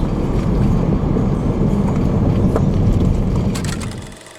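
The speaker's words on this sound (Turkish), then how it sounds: "Hafif rüzgar var bulunduğumuz merada." Light wind at a lakeside fishing spot on the Atatürk Dam reservoir, a steady broadband rush with gusty buffeting on the microphone, fading out at the end, with no voices.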